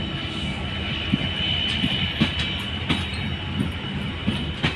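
The Padma Express train departs Dhaka Kamalapur railway station with a loud, steady rumble of engine and carriages, punctuated by regular rhythmic wheel clacks over the rail joints.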